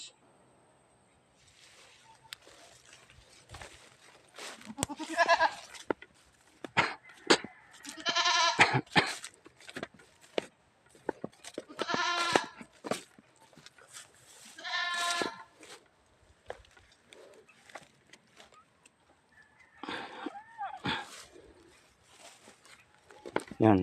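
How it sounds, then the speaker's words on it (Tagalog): Goats bleat repeatedly in a farm setting, including a newly bought one that was recently pregnant, with several loud, wavering calls spread across the clip and some background noise between them. "dito muna kayo mga kambing sa malilim"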